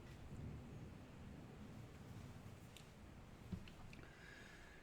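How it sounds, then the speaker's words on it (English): Steady rain hissing in the background with a faint rumble of distant thunder, and a few soft outdoor sounds mixed in, heard from inside a garage. "pretty good rain, some thunder, some nature sounds in the background"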